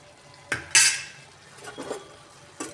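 A spoon stirs a tomato and turmeric mixture in a metal cooking pan, with sharp scraping clinks and a soft background sizzle, close and fairly loud, with no talking.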